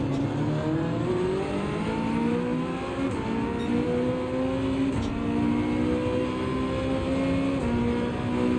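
A racing car engine in Gran Turismo 7 whines and revs in rising, shifting tones, steady and moderately loud with no talking.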